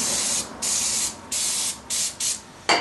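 Aerosol brake cleaner sprayed onto brake caliper pins during a GM brake job, five loud, close hissing bursts of varying length separated by short pauses, with no talking.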